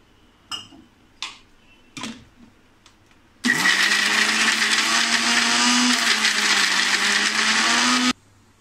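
A few sharp clicks, then a mixer grinder roars loudly and steadily for about five seconds, grinding masala with a little water, before cutting off abruptly.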